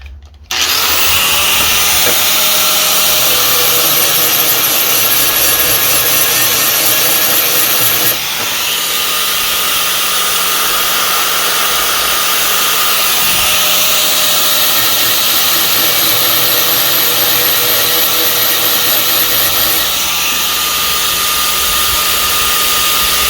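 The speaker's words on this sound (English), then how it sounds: "Oops, plug the grinder." Bench grinder sharpening a dull blade, running as a loud, steady high-pitched whir that starts abruptly and continues through, with slight dips in pitch as the blade is pressed against the wheel.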